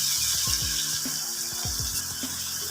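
Water poured into a pan of cooking karela (bitter gourd) with onions and tomatoes, a continuous close splashing flow with bubbling pops throughout, no talk.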